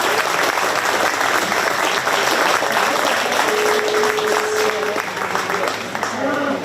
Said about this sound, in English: So please give these exhibitors a round of applause.